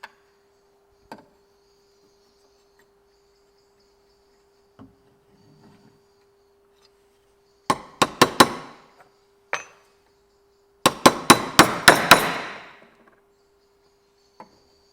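Sharp metallic strikes from a chasing tool hammered against metal parts clamped to a workbench, made while fabricating parts for a Maserati Mistral; a few isolated taps, then two fast bursts of ringing blows, close and loud.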